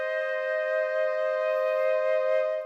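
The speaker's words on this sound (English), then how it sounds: "We got some flutes." A sustained flute sample from the Elements of Soul instrument library holds one steady, clear pitch for nearly three seconds with a slight breathy waver, close and unaccompanied.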